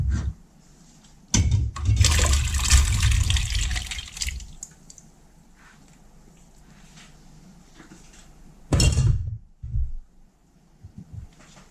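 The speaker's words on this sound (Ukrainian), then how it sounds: "Тепер до маринаду відправляю назад вже перемиті грибочки." Washed porcini mushrooms splash into a marinade in two loud bursts of sloshing liquid, separated by quieter stretches with faint drips and small kitchen knocks.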